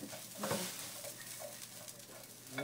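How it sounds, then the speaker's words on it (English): Broccoli stir-frying in garlic-flavored oil, with a steady soft sizzle and brief bursts of stirring and clattering against the pan, close by and fairly quiet. "I'm just going to let that stir fry a little bit."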